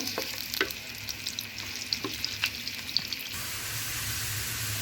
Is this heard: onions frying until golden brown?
yes